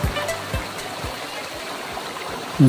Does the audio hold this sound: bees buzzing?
no